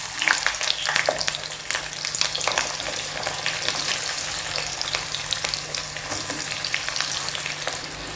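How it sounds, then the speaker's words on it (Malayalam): Pieces of ginger fry in oil in a pan with a continuous bright sizzle and crackle, broken by the scrape and clatter of stirring. It is fairly close and steady throughout, with no talking. "ആദ്യം ഇഞ്ചി ഒന്ന് വറുത്തെടുക്കണം"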